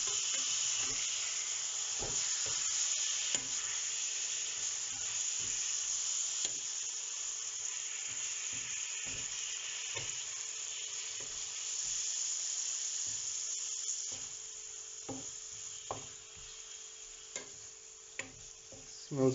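Steak curry in a hot pan sizzles with a steady soft hiss while a utensil stirs it, scattered light scrapes and taps recurring irregularly over the continuous frying.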